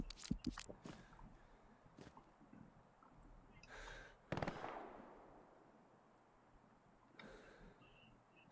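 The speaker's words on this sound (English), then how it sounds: "That satchel just went off." Satchel charge blast in Hell Let Loose, a WWII shooter: a sharp, loud detonation mid-clip with a rumbling tail, preceded by scattered distant pops and cracks and followed by another distant burst.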